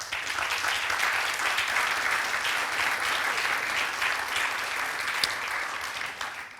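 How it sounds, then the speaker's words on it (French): A conference audience claps in sustained, dense applause for five speakers, holding steady for several seconds before tapering slightly at the end. "Là, je pense que vous pouvez les applaudir."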